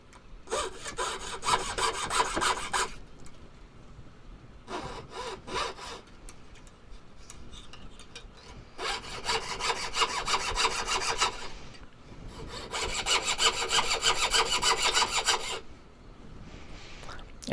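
A hand saw cuts through metal spoons being made into pendants. It comes in three long bursts of rapid, rasping back-and-forth strokes, close and steady, with short pauses between them.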